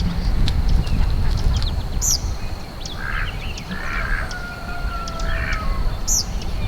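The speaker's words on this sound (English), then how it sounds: "then we got the other 4 ducks." Ducks quack in short bursts outdoors, a few calls spread out against a steady low background rumble, with faint chirps now and then.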